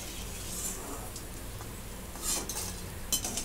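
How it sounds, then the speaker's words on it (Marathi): Edible gum (dink) fries in oil in a pan, a soft, steady sizzle beneath quiet clinks and scrapes of a utensil stirring against the metal, no voices. "आता अशाच प्रकारे सर्व डिंक मी तळून घेते"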